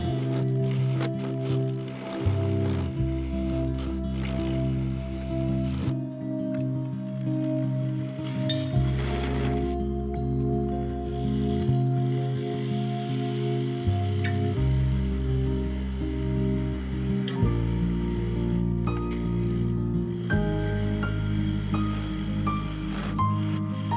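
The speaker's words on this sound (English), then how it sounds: "First, a 1/4 inch parting tool to cut the recess to a depth of around 6 mm" Woodturning tools cut into yew on a spinning lathe, a steady hum with scraping and chattering cutting noises whose tone shifts as the tool changes, all with no talking.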